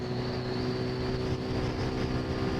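A Suzuki Gixxer Monotone motorcycle engine runs steadily and loudly with a sustained drone and a high whine, held under load as the rider shifts up through the gears.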